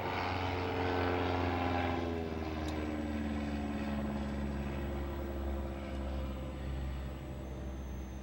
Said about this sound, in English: Airplane! Airplane in sky!